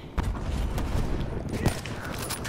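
Machine gun fire in a video game: dense, rapid bursts of gunshots rattle close and loud for the whole stretch, with a sharper blast near the middle.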